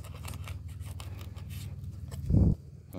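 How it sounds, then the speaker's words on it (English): A cheap Ozark Trail budget folding knife slicing through thick rope: soft fibrous scraping, then one louder crunching snap as the blade cuts through. "Cut some thicker rope with it."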